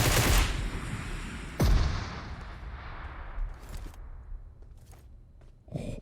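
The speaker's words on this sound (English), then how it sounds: "He has a minigun!" A minigun fires in the PUBG mobile shooter game, opening with a loud burst and a second sharp burst, then trailing off into fainter scattered shots and a closing rattle.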